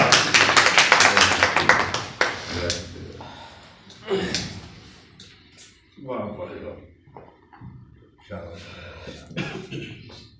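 Applause from an audience welcoming Sarfaraz Aftab on stage, a dense burst of clapping for about three seconds that thins into scattered claps and bursts under speech and music.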